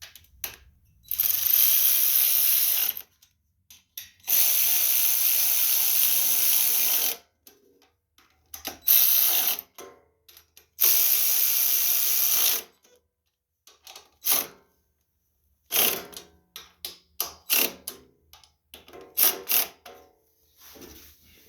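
Nuts on the carburetor of a Kawasaki 26 hp engine on a Toro stump grinder being tightened with a ratchet, with close rapid clicking bursts of several seconds each, broken by pauses and shorter ratchet strokes toward the end.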